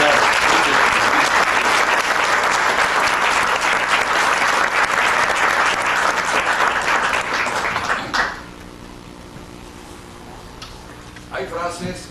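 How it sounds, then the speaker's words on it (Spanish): Warm audience applause at a Mexican book presentation, loud and dense for about eight seconds, then dying away to a quiet room before a brief scattered burst of clapping near the end. "Recibámoslo con el cálido aplauso"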